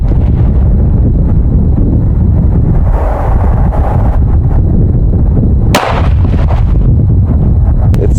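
A single sharp, loud 9mm 124 grain +P jacketed hollow point round is fired outdoors into a penetration test, cracking out once against steady heavy wind noise buffeting the microphone.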